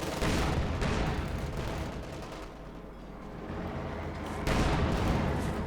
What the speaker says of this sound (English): Got another artillery barrage going in there.